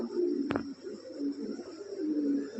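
Lahori pigeons cooing nearby in soft, low throaty rolls, with a sharp click or flap near the start and a quiet hum of surroundings underneath.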